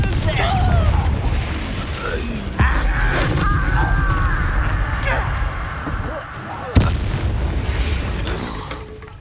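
A Confringo fire-blast spell from the Hogwarts Legacy video game bursts with loud booming explosions, a sharp blast near the start and another strong hit later, over a continuous rumbling combat din with a voice briefly present.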